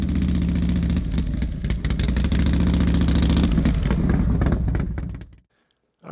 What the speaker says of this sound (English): here we are on the bike, doing about 50 miles an hour coming up to the Harley-Davidson dealer